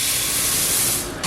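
Coriander seeds pour into a hot pan for roasting while making curry powder, giving a loud continuous hiss and sizzle that cuts off abruptly near the end, with no voices.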